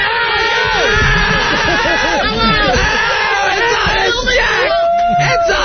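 A man shrieks and yells in a replayed comedy radio show segment, high-pitched wailing loops mixed with crowd chatter and other voices talking over it.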